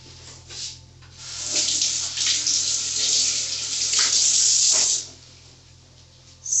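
Food is rinsed under a running kitchen tap while preparing wok noodles, the steady hiss of water into a sink swelling loud for several seconds, then dropping away before a brief final gush, with no talk.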